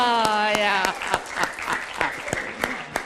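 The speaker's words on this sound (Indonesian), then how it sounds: "tepuk tangan untuk Al-Hilal" Applause for Al-Hilal from a studio audience during a televised Ramadan talk show, a short burst of clapping that quickly thins into scattered individual claps, close and moderately loud, with a voice speaking over the start.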